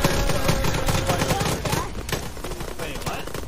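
Rapid gunfire rattles in the video game Arma, loud dense bursts of shots fading somewhat toward the end.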